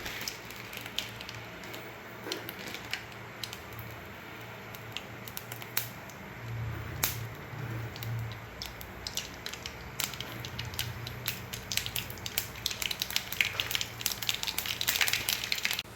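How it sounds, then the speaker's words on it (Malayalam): Mustard seeds crackle in hot coconut oil during tempering for a Kottayam-style tapioca biryani: dense, fairly faint snaps and pops scatter steadily throughout, growing busier toward the end, with no voices. "ഇനി ഒരു പാത്രത്തിൽ കുറച്ച് വെളിച്ചെണ്ണ ഒഴിച്ച് കടുക് പൊട്ടിച്ചെടുക്കാം"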